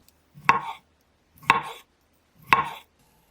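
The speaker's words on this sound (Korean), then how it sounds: "구운 당근은 얇게 슬라이스 해줄게요." A knife slices roasted carrots thinly on a cutting board, giving three evenly spaced, crisp chops about a second apart, close and clear with silence between each cut.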